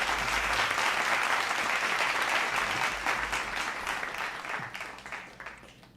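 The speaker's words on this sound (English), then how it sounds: "So big round of applause for the people at the St. Kitts and Nevis Robotics team" An audience applauds the St. Kitts and Nevis Robotics team, with dense, steady clapping from many hands that stays loud at first and then slowly thins and fades toward the end.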